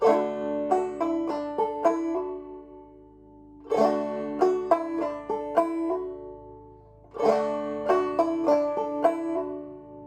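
A plucked banjo plays the same brisk frailing lick with a hammer-on three times, each phrase a quick run of bright notes ringing out before the next repeat.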